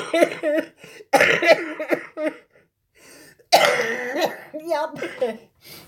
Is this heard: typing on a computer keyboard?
no